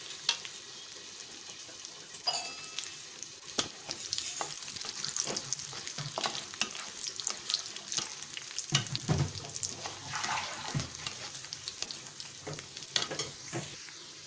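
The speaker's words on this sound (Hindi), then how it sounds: "अब हम इसमें सारे ड्राई फ्रूट्स को डाल देंगे और इसे हम अच्छे से रोस्ट करेंगे।" Dry fruits roasting in a pan for Eid zarda sewai, with steady sizzling and frying crackle plus repeated scraping stir strokes throughout, close and fairly loud, no talking.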